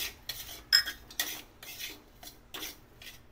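Semolina and powdered sugar are stirred in a kadhai, giving repeated scraping, rasping strokes of a spoon against the metal pan at an irregular rhythm, close and fairly quiet.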